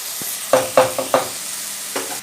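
Onions fry in a pan for a paneer gravy, giving a soft background sizzle broken by several sharp scraping stirs of a spoon against the pan, up close and with no talk.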